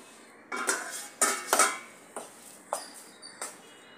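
A spoon clinks against a metal bowl while sesame seeds, dry spices and chopped coriander are mixed for onion puri, with several sharp, irregular scraping and tapping strikes and quiet pauses between them.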